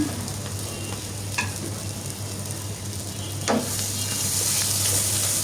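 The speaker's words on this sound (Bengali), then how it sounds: "এই তো ভাজা হচ্ছে" Spiced beef brain sizzles steadily in a pan over low heat, with a couple of brief scraping stirs, close and continuous without talk.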